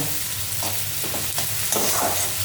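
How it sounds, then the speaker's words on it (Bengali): Onions for a fish curry sizzle and fry in a pan with a steady, close crackle. Faint stirring scrapes break through it now and then, and no one speaks. "তখন হয়ে গেল পেঁয়াজ ভাজা"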